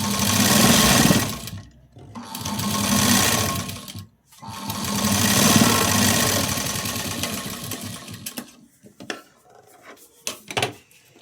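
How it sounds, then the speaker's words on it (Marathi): A sewing machine stitches a folded button placket strip in two long steady runs, close and fairly loud, followed by a few short bursts and clicks as the fabric is adjusted. "पट्टी दुमडल्यानंतर अर्धा इंच मार्जिन ठेवून शिलाई देऊन घेणार आहे."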